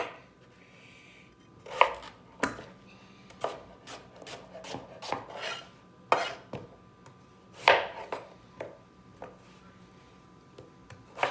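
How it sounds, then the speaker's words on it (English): Knife rough-chopping potatoes on a cutting board, a steady run of sharp, close chops in irregular bursts, some louder thuds standing out, no talking. "I usually just cut them in half, cut them in half again, and just slice them down and rough chop them"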